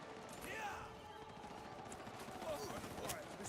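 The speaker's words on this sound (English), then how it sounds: "They're shooting at me!" Gunfire in the Highguard video game during an extra-time match: repeated shots crackle through a busy battle mix over about three seconds, with voices talking over the action.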